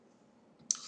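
A single sharp mouse click sounds near the end while a website is being edited, close and crisp after near silence.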